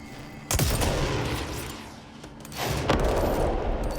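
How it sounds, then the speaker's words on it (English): A rocket launcher fires in the video game Control, two sharp blasts with rumbling roars that swell and linger, loud against the game's background noise. "I have a really good feeling that this is a rocket launcher"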